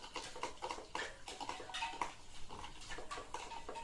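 Milk, butter and eggs being mixed together in a bowl for banana pancake batter, giving a steady run of close, wet clinking and sloshing strokes that carry on without pause and with no talk over them.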